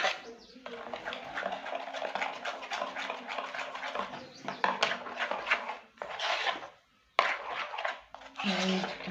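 Batter with sugar being stirred for a sponge cake, a steady scraping and clinking of a utensil against a bowl, with brief pauses and a voice talking over it.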